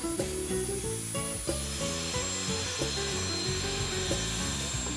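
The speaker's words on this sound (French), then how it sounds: "réglez pour cela la profondeur de la scie circulaire de manière à ce qu'elle scie juste à travers le panneau décoratif" Circular saw cutting through a decorative panel on Combo insulation, set to a shallow depth, giving a loud, steady buzzing drone with a regular pulsing rhythm and no voices.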